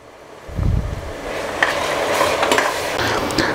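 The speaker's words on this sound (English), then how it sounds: "We're giving this a mix now, and after this the tomatoes are going to go in." Onions frying in a pot for mutton biryani are stirred, starting with a low thump, then continuous close sizzling with metallic scrapes and clinks of the spoon against the pot.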